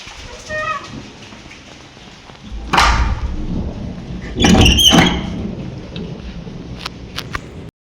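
Thunderstorm with heavy wind and rain in the evening: a steady wash of rain and wind is broken by two loud, rumbling thunder bursts, the second heavier and longer, with scattered sharp cracks afterward.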